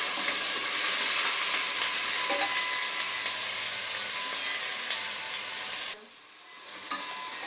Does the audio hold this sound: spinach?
yes